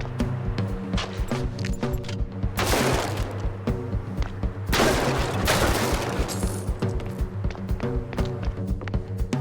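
Pump-action shotgun blasts from a video game boom out in two heavy bursts among rapid clicking and tapping game effects, over a steady background music bed.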